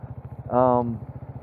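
A motorcycle engine idles with a steady, rapid low chug close by, while a person speaks briefly over it near the middle.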